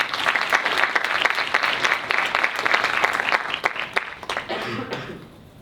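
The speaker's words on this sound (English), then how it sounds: "please give our candidates one final warm round of applause as they exit the stage" A university student election debate audience applauds warmly as the senatorial candidates leave the stage, dense steady clapping that holds strong before tapering off near the end.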